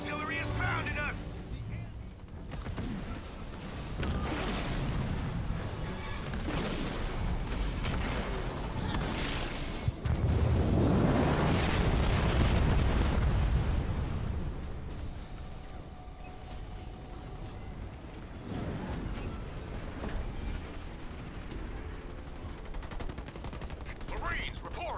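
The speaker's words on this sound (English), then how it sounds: "Enemy artillery is pounding us." Enemy artillery bombardment in Halo Wars 2, a dense rumble of explosions and gunfire that swells into a heavy, loud barrage midway, with game voices talking over it.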